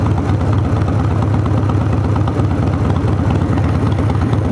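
Harley-Davidson V-twin with a Lectron carburetor idling close up, a steady low loping rumble with even pulses and no break throughout.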